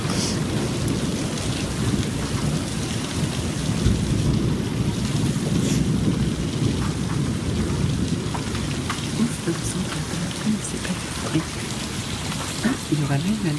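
A violent, windy thunderstorm in Montoison, February 2017, pours down as a continuous, loud roar of heavy rain and wind, with deep rumbling thunder underneath throughout.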